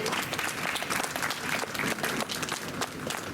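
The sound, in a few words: audience applause at ceremony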